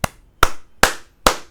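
Four sharp, evenly spaced claps ring out close and loud, each a crisp slap with a short decay, heard alone.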